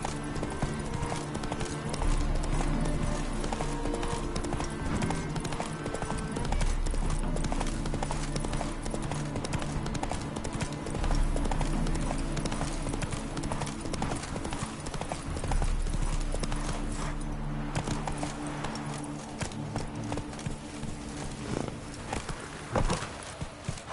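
Hooves of the horse Roach in The Witcher 3 clip-clop continuously in a steady, fast gait, loud and near, over a dense game soundscape with a low rumbling bed.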